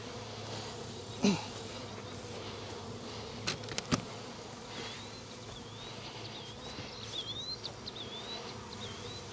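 Honeybees from a caught swarm buzz in a thick, continuous drone near at hand, broken by a couple of brief knocks and thumps, with faint bird chirps in the background.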